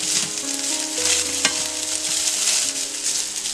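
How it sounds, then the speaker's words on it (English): Steady sizzling of rice noodle upma frying in a pan, with scraping stirring strokes and a faint tonal hum underneath, continuous and close. "Now slowly we have to mix everything well."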